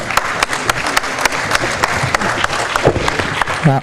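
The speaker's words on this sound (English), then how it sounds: "give these folks a big round of applause" A business conference audience applauding steadily, many hands clapping in a dense, lively burst that carries through the whole moment.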